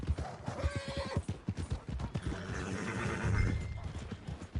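Horse hooves clip-clopping in a steady rhythm with a loud neigh, from the western game Red Dead Redemption 2, close by with faint background ambience.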